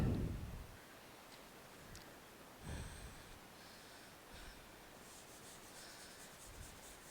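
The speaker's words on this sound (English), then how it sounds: "This board is very small board, so only I am rubbing." Someone rubs a small classroom board with short, soft scraping strokes, faint and intermittent against quiet room noise, with no talking.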